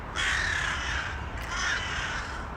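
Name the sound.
crows cawing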